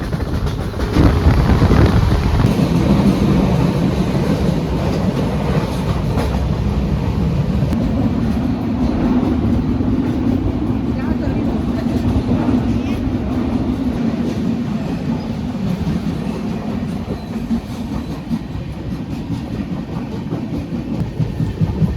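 A Chandigarh Kerala Sampark Kranti Express on the Konkan Railway rolls into a tunnel, its loud steady rumble and rattling wagons swelling into an enclosed roar that holds for about twenty seconds.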